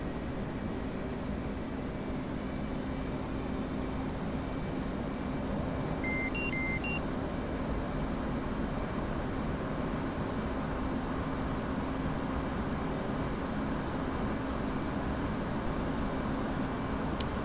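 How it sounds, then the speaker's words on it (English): An F/A-18C jet landing on an aircraft carrier in the DCS World flight game: a steady, loud, unbroken engine roar throughout, with a few brief electronic beeps midway and no talking. "let's get this plane down."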